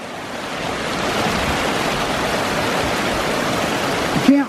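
Water rushing steadily along the Lake Haiyaha hike in Rocky Mountain National Park, a loud, unbroken broadband roar of flow close by, with a brief bump near the end and no talk.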